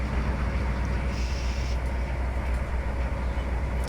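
A train driving in the rail simulator Trainz 2019: steady low engine drone and rolling rumble throughout, with a faint higher whine partway and light clicks.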